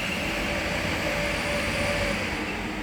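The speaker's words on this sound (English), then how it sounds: "the 1327 London Northwestern Railway service from Northampton to London Euston is now departing" A London Northwestern Railway passenger train departs Bletchley station on the West Coast Main Line, a steady loud rumble of wheels and traction with a faint high tonal whine running through it, no voices.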